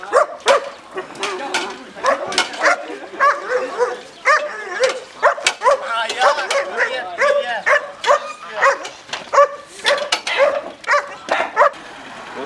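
A dog barks repeatedly at close range in a village, sharp yapping barks and whimpers in irregular bursts, with people's voices mixed in among them.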